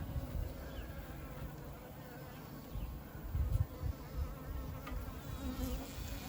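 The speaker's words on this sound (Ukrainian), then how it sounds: "Ой, бджоли, оп, як атакують її." Dense buzzing of many honeybees attacking a queen, a continuous agitated drone with occasional louder swells, close by.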